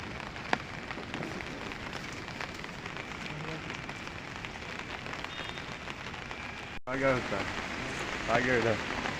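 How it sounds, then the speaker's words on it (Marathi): Rain falls in a soft, steady hiss, faint and continuous, with brief voices rising near the end. "पाऊस चालू आहे"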